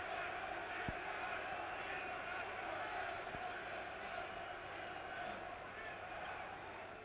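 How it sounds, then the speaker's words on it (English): A huge German boxing crowd roars for home heavyweight Mildenberger in a title fight, a steady dense wall of cheering and shouting that holds at constant loudness throughout. "getting a tremendous reception from this huge German crowd"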